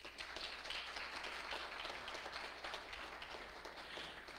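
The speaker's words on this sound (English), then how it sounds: "Let's give her a round of applause." Light applause from a church congregation during a Sunday service, a modest scattering of hands clapping steadily at a fairly soft level throughout.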